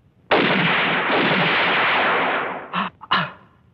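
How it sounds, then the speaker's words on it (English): Gunshots ring out in a 1972 crime film scene: one long, loud blast that rolls on for over two seconds, followed by two short, sharp cracks close together. "Shoot him in the head."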